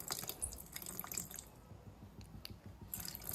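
Tamarind water poured into a cooking pot for nookal kuzhambu, a soft, steady trickle with small splashes that fades in the middle and picks up again at the end.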